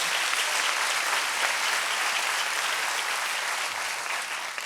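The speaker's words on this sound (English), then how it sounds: "Round of applause for all the dads in the house." Dense, sustained applause from a comedy club audience, loud and continuous clapping across the whole stretch with no voices on top, easing off only slightly at the end.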